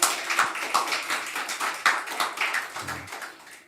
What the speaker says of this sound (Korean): 이 일에 수고한 우리 손진기 형제에게도 박수합니다.